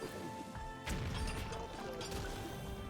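Blast Charge card effect in Hearthstone, a sudden crashing impact with mechanical clatter and short metallic accents, close and fairly quiet overall.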